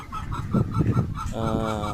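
Chickens and chicks in a rain-flooded yard: hens cluck close by in short bursts, followed by a run of high, peeping chick calls, over a steady outdoor background.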